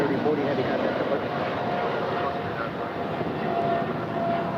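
A United Boeing 777-200ER jet takes off at LAX, bound for Houston. Its engines give a steady, loud, broadband roar that holds evenly throughout, with no talk over it.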